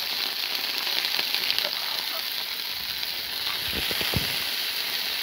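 Umm el khulul clams frying in hot oil, a steady close crackling sizzle with scattered sharp pops, the bursts growing thicker toward the end, with no talking.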